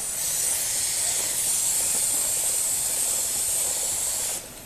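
Aerosol chain lube sprays in one long continuous hiss onto a Ducati Diavel motorcycle chain, close and steady for over four seconds before cutting off abruptly near the end.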